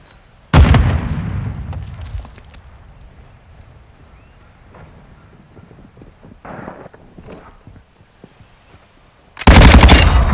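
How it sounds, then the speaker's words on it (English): A loud grenade blast and bursts of gunfire come from the shooter game Call of Duty MW II on PS5. A sudden booming explosion decays over a couple of seconds, scattered shots follow, and another heavy burst of fire closes it. "Throwing grenade!"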